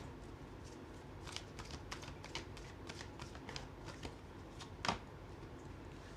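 Tarot cards are shuffled close up in a rapid series of soft riffling flicks and taps, ending in one sharper snap, all quiet and with no talk.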